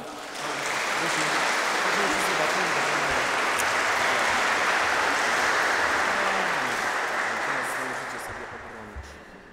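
Sustained applause from a wedding crowd, steady and dense clapping for several seconds before tapering off toward the end.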